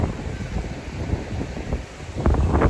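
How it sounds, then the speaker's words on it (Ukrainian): Strong wind gusts in Miami ahead of Hurricane Idalia, buffeting the microphone with low rumbling pulses that ease briefly and then surge harder near the end. "трохи розпочався такий сильний вітерець"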